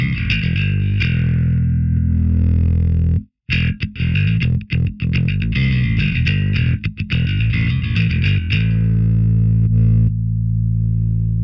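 Electric guitar played through the compressor effect on a Line6 POD Express, loud and close, with a sustained, evenly levelled tone, chordal strums and a run of short choppy notes before ringing out.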